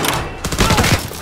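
Gunshot in Call of Duty WWII, a quick cluster of loud, close impacts and thumps lasting about a second within dense game noise.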